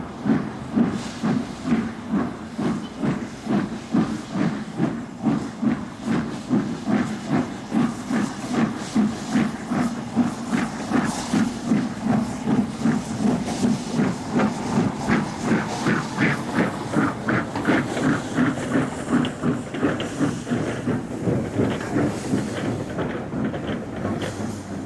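The LNER steam locomotive Flying Scotsman works a train on the Cumbrian coast, its exhaust beating in a steady rapid chuff with hissing steam and rolling rail noise, loud and continuous throughout.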